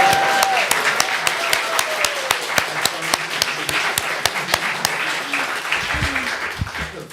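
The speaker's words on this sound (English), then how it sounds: "a big round of applause for" Crowd applause at a family service honoring high school seniors: loud, close, even clapping lasting several seconds with some voices mixed in.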